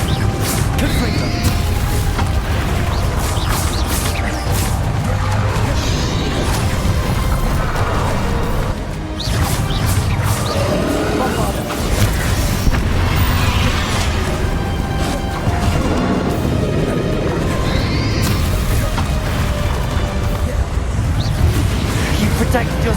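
Confringo fire-blast spells burst during a climactic boss battle against Ranrock in Hogwarts Legacy, a loud, dense run of crashing explosions and impacts over a constant roar of combat noise for the whole stretch.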